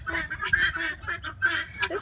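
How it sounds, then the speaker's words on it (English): Soft, repeated nasal calls from a quail at close range, a short series of chirring, honk-like notes in a cold outdoor pen, with no talk. "There's the quail."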